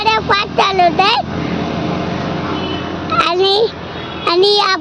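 A motorbike rides along a muddy road with a steady engine and wind rumble underneath, while someone talks in bursts over it.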